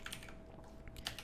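Keys clack on a computer keyboard as Blender shortcuts are pressed, a few quick, faint, close taps within a second.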